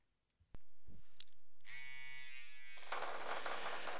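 An electric toothbrush resting on a desk hums steadily and loudly with a buzzing motor tone; a couple of clicks come first, then the tone shifts partway through into a harsher, broader rattling buzz.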